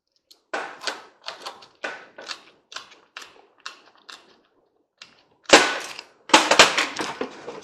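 Motherboard pieces cut apart with a cutting tool, sharp crisp snips and cracks in short irregular bursts with pauses, then louder clustered crunching cuts near the end.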